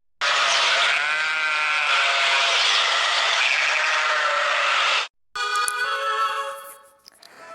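Sheep and goats bleat loudly and close by, one long sustained bleat followed after a brief pause by another wavering call.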